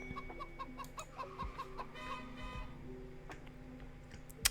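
Chickens in a farming video game cluck in a quick run of short, bright notes over a faint background, followed by scattered clicks and a brief sharp tap at the end.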